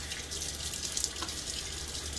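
Water runs steadily from a tap for shaving rinse water, a close, hissing splash with no talking.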